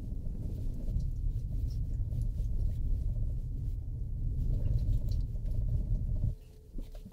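A Kia EV9 electric SUV crawls along a rough trail to a cottage, giving a steady low rumble with patter from the tires and body, close and continuous, then dropping off abruptly near the end.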